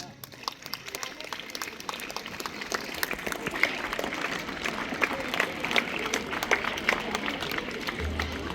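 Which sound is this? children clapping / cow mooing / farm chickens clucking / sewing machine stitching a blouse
children clapping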